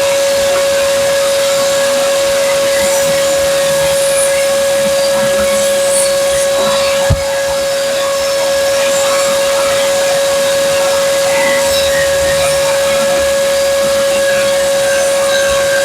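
A power tool cleans the edges of pine wood, giving a loud, constant high whine over a hissing rush. A single sharp click breaks in midway, and no one speaks.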